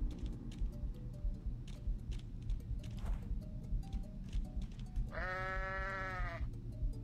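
A goat in the video game Goat Simulator lets out one drawn-out, wavering bleat near the end, heard over a ticking, clattering game background with no talking.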